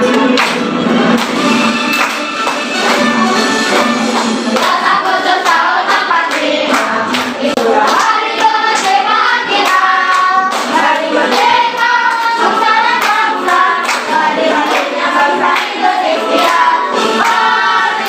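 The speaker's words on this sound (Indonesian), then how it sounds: "Nanti boleh pakai tepuk tangan ya." Children sing a song in a classroom lesson while clapping hands along, rhythmic claps running under the loud continuous singing throughout.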